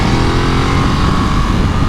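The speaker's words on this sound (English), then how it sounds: "That motor sounds pretty good through the airbox." A 2022 Ducati Monster motorcycle engine runs close by, heard through the airbox as a loud, steady, throaty drone with a rumbling low end.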